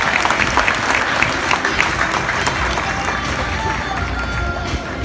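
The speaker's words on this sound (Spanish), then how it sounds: "Fuerte el aplauso de igual manera." Applause at a school breakfast hall inauguration, a loud, steady crowd clapping that fills the space for several seconds, easing slightly toward the end, with indistinct voices mixed in.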